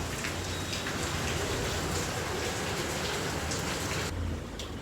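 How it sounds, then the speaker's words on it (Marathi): Heavy rain pours steadily outside, a dense, continuous hiss of drops on surfaces that stays loud and even throughout, with no voices over it. "बाहेर इतका मस्त पाऊस चालू आहे ना"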